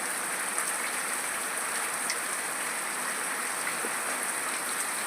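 Heavy monsoon rain pours steadily in a village setting, a dense, even hiss with scattered droplet patter close by, constant and loud throughout with no voices.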